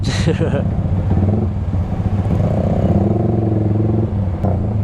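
A Yamaha R15 V3 sport motorcycle on a city ride through Jakarta traffic, its engine a close, steady droning hum with a brief clatter at the start and a slight rise in pitch midway.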